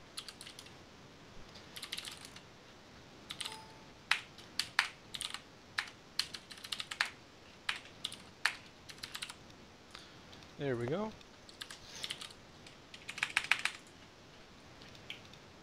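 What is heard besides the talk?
mechanical keyboard typing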